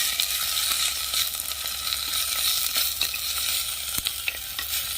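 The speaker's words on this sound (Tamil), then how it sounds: "இப்போ நம்ம பசலிக்கீரையை நல்லா வதக்கி விட்டு எடுத்துக்கலாம்" Malabar spinach (pasali keerai) sautéing in a pan for a keerai kuzhambu, a steady bright sizzle throughout with faint scrapes of stirring, fairly close and without speech.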